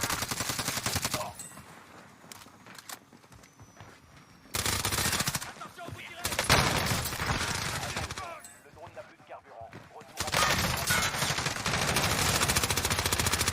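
Rapid automatic gunfire in a video game, bursts of loud crackling shots that start and stop abruptly between quieter gaps, with a player talking over parts of it.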